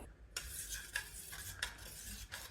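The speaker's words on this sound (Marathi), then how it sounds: "आता आपण हा मध मिक्स करून घेऊया" A spoon stirs honey into amla juice in a quiet kitchen, soft swishing with a few light clinks against the vessel, all close and faint.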